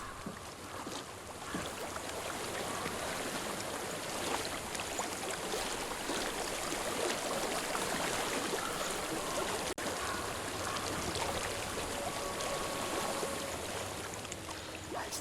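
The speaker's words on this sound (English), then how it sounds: "I hear water. Go to it." Flowing stream water in the game Hellblade: Senua's Sacrifice, a steady, soft broadband rush and trickle that holds evenly throughout, with faint wind and no talk.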